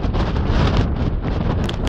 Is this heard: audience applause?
no